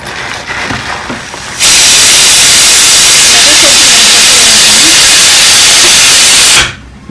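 A pressure cooker cooking chana lets out a sudden, loud, sustained steam hiss and whistle that holds for about five seconds and then stops abruptly, preceded by quieter kitchen noise.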